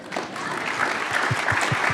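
Audience applause at a panel discussion about race: dense, steady clapping from a crowd fills the room, close and loud throughout, with a few heavier individual claps standing out.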